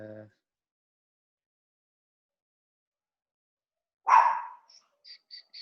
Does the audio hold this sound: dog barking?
yes